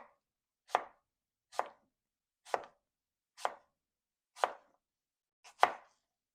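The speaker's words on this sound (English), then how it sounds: "And we're just going to slice them." A knife slices cored fruit on a cutting board, six crisp separate chops at an even, unhurried pace, close and clear against silence.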